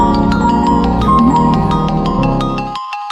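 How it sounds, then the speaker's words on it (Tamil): A mobile phone ringtone plays indoors during a family conversation, a loud, bright melodic tune with repeating notes that cuts off abruptly near the end. "உங்களை பேச சொன்னா உங்க போன் அடிக்குது."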